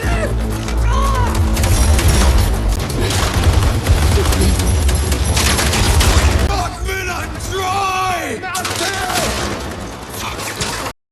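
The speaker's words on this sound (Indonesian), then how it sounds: "Tembak-tembakan kembali terjadi." Rapid bursts of gunfire crack back and forth over a loud, dense background of music and shouting voices, with a few heavier booms mixed in.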